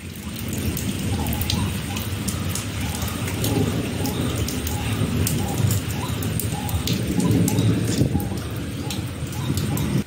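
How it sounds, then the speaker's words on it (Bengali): Heavy rain that has been falling since the night before, a steady loud roar of downpour with pattering drops, while birds and pigeons coo intermittently in the background. "কাল রাত থেকে এখনো অবধি বৃষ্টি হয়েই যাচ্ছে"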